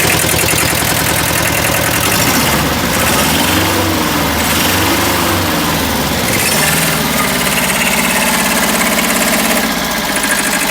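A Kubota B7000 tractor's small diesel engine idles loudly and close, a constant rough rumble with a steady knocking rhythm and slight wavering in pitch.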